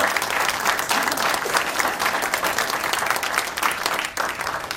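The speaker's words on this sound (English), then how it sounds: "can we give this amazing panel a round of applause?" A crowd applauds a panel at the close of a discussion, steady dense clapping that holds evenly throughout at moderate loudness.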